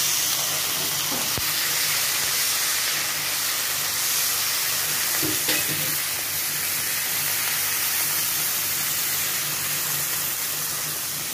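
Beef sautéing in a pan with onion and garlic for Bicol-style beef steak, a steady loud sizzling hiss lasting throughout with a few faint clicks of utensils.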